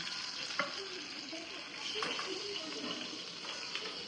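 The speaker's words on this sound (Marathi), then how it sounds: "त्या तेलात मसाला परतून घेते" Spice masala fries and is stirred in hot oil for an eggplant curry, a soft continuous sizzle with faint scraping of the spoon, heard close but quietly with no talking.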